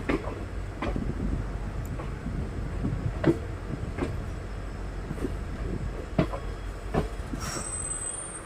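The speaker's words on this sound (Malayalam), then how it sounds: "അങ്ങനെ 1 മിനിറ്റിന് ശേഷം നമ്മുടെ ട്രെയിൻ അങ്ങനെ അപ്പോൾ ഇവിടുന്ന് വീണ്ടും പുറപ്പെട്ടിരിക്കുകയാണ്" Train pulling out of Hole Narasipur railway station, heard as a steady low rumble with periodic wheel clacks over rail joints and a brief high squeal near the end.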